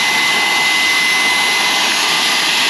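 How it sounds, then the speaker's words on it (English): A loud, high-pitched vacuum cleaner whines steadily, running close by without pause. "get your wife's favourite vacuum cleaner and suck all the shit out."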